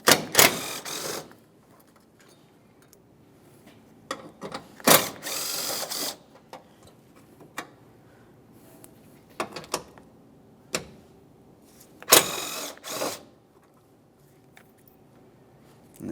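A hand ratchet loosening 10mm mounting bolts on a 2008-2017 Mitsubishi Lancer during washer fluid reservoir replacement, short bursts of rapid clicking separated by pauses, close and fairly loud, no talking.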